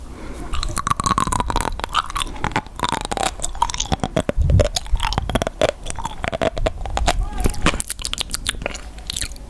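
Crunchy food dipped in soy sauce is chewed close to the mic in a steady run of loud, crisp bites and crunches, with a soft voice speaking now and then between them.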